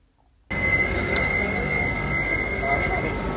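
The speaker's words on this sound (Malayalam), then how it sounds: "ഞങ്ങൾ അവിടുന്ന് ട്രാം എടുത്തു." After a moment of quiet, a tram's steady rumble on the rails swells in and continues, a low hum with a faint high whine.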